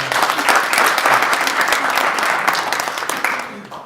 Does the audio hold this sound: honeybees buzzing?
no